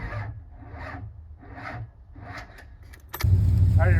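A Duramax diesel truck engine cranks over in four rhythmic starter pulses, then catches with a sudden louder, steady rumble near the end.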